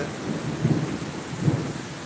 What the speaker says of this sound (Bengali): বজ্রপাত হচ্ছে